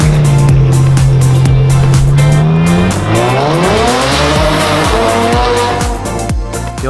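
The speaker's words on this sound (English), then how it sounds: "We start things off with this satin blue F12 with an Army Trix exhaust." Satin blue Ferrari F12 fitted with an Armytrix aftermarket exhaust, revving loudly and close by, a steady drone sweeping upward through several quick gear changes with crisp crackles.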